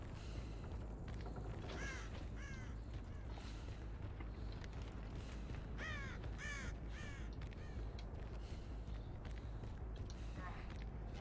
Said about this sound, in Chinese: 那边有乌鸦飞起来